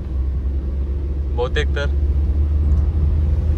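A car is driven on a road trip from Panvel toward Malvan, a steady low engine and road rumble heard from inside the cabin throughout, with a brief spoken phrase partway through.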